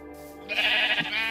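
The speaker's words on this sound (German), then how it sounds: "So viele Schafe." Sheep bleating in Minecraft, a single nasal bleat rising out of quiet background game sound, fairly close and clear.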